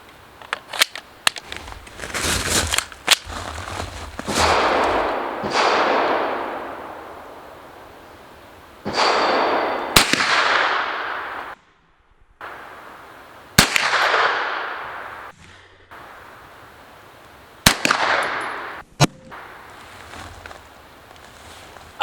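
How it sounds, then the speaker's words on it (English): Series of sharp 9mm rifle shots fired outdoors at a ballistic gel block, loud cracks each followed by a rolling echo, spaced irregularly with some quick pairs and short silent gaps between. "We're gonna fire all out of the same magazine this time."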